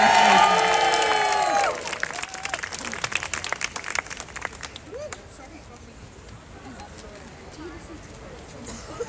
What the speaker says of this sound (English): can we also have a massive round of applause for the stewards, keeping us all in line